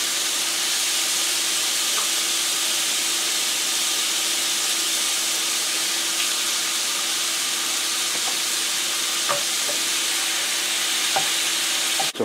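Ground meat picadillo, seasoned with salt and pepper, fries in a pan with a loud, continuous hiss and sizzle that fills the whole stretch, broken by occasional light scrapes and taps of a utensil stirring it, close by, with no talking.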